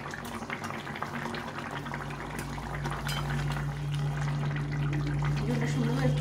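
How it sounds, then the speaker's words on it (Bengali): Fish curry gravy bubbling steadily in a cooking pot, a continuous soft boiling hiss with a low steady hum, growing slightly louder toward the end, with faint utensil clinks. "ঝোলটা সুন্দরভাবে ফুটে গেছে।"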